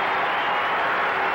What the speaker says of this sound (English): the Utah crowd here loves it at the Special Event Center in Salt Lake City